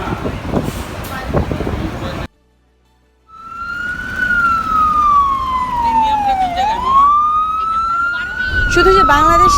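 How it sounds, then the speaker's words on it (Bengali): An ambulance or emergency vehicle siren wails loudly through New York traffic, its tone sweeping down and back up in a long cycle after a brief silence, with traffic noise underneath. "এই অ্যাম্বুলেন্স বা এমার্জেন্সি গাড়িগুলো ট্রাফিকের জন্য আটকে যায়"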